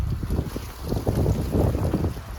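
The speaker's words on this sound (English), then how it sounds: "it is a little bit windy today" Wind buffets a microphone outdoors beside a 2026 Chevrolet Traverse High Country, a loud, continuous low rumble with gusty surges throughout, no voices.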